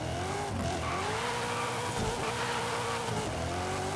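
Tires squeal steadily on a drifting S15 with a custom formula drift build in Forza Horizon 5. The engine drones continuously underneath, loud and close, with no talking.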